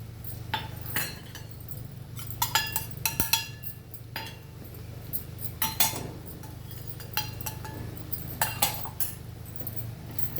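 A spoon clinks and scrapes against a dish while garlic chili powders made with peanuts, with sesame, and with curry leaves are stirred together, giving close, irregular metallic taps over a low steady hum.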